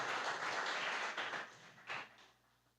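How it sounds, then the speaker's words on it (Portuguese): Soft applause from a church congregation patters for a couple of seconds, fairly faint and distant, then thins out and fades. "Se você quiser, você pode aplaudir ao Senhor."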